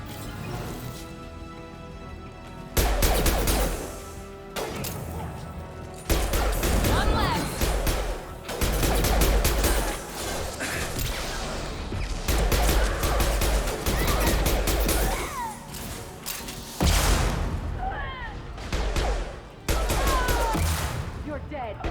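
Sniper and rifle fire in the video game Mass Effect 2 Legendary Edition comes in loud, repeated bursts and sharp cracks over a chaotic firefight, with voices shouting in between.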